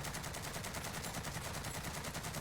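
Sustained automatic fire from a Cold War AK-47 in the video game Warzone, a rapid, even stream of shots through the whole stretch, loud and dense, with no talking.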